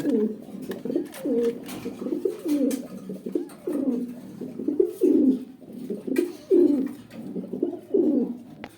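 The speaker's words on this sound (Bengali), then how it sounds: "এক পেয়ার রেসার কবুতর আছে" Racer pigeons coo close by, a run of soft, throaty rolling calls repeating every second or so, layered and overlapping, with faint background murmurs.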